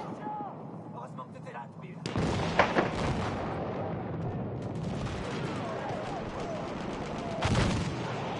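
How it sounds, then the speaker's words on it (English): Grenades exploding in a video game combat scene, a dense, continuous roar of blasts and gunfire with a sharp onset partway through and another loud surge near the end, some voice chatter mixed underneath. "A lot of grenades getting chucked in there."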